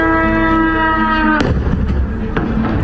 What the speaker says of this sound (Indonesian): Ledakan mengguncang akibat serangan drone Iran menyasar pangkalan militer Amerika Serikat Harir di Erbil.